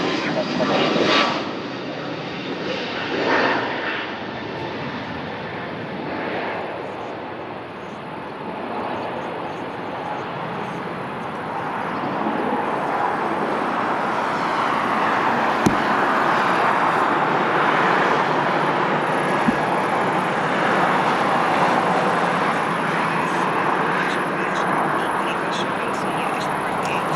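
Airbus A320 jet engines roar at Lisbon Airport, a broad sustained rumble that swells and holds steady as the aircraft passes close, with radio talk faintly underneath.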